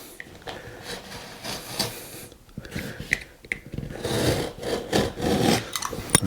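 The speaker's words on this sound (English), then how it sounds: "we're going to go along and score the top of the architrave against the wall" Sharp utility knife blade scoring along the top of a wooden architrave where it meets the wall, a close, continuous scraping and rasping drawn in uneven strokes, with breathing and small handling noises between passes.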